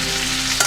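Potatoes with salt and turmeric fry in a pan, giving a loud, close, steady sizzle for under a second with a small clink near the end.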